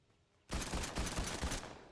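Automatic assault rifle fire in the Fortnite battle royale game bursts in after a quiet start, a sustained loud fusillade of rapid shots with no talk over it.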